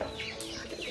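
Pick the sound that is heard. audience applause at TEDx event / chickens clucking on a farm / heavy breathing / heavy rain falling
chickens clucking on a farm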